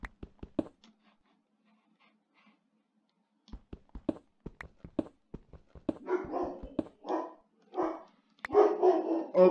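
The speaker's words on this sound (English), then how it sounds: "if you're wondering what that is the sound of my dog barking" A dog barks indoors in a series of sharp, close single barks, pausing briefly before resuming with quicker barks and longer whining, yelping sounds toward the end.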